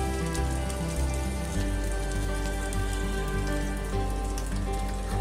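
Rui fish frying in hot oil in a pan, a steady close crackling sizzle with dense spattering pops over a low hum, continuous with no talk.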